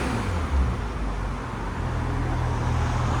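A 2019-2026 BMW M340i with its 3.0L engine idles on a Valvetronic cat-back exhaust, valves closed: a steady, low, even rumble held for a few seconds with no talk.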